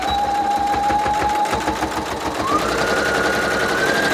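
A sewing machine back stitches along the edge of pillow fabric, a steady fast mechanical whir running continuously and loud from start to finish with no talking.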